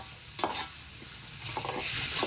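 Wild nali greens going into a hot pan and frying village style, a steady close sizzle carrying a few sharp stirring scrapes, with no voices.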